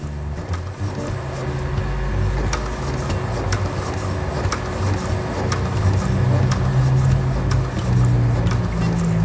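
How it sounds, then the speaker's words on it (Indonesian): Steady mechanical whir of a used Epson L-series inkjet printer running smoothly, with regular soft clicks ticking over the hum throughout. "dia suaranya halus wong ya, meskipun dalam keadaan kondisi printer second"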